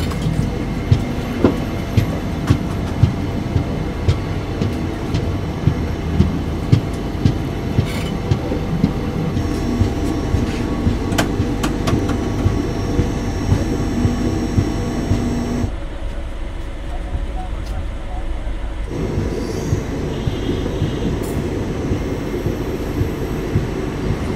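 Netaji Express train running on its route, heard from inside as a steady rumbling roar with repeated rhythmic clicks from the wheels and carriages, loud and continuous, softening briefly before returning.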